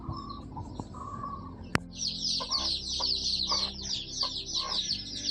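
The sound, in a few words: chickens and chicks clucking in a yard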